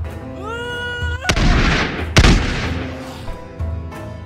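Booming cannon and gunfire blasts in the battle game TABS: two heavy, broadband booms roughly a second apart, with smaller shot bursts trailing off beneath game music.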